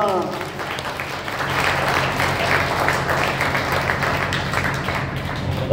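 Sustained audience applause at a live Marathi stage performance: dense, steady clapping from a crowd fills the whole stretch at close range, with voices mingled in.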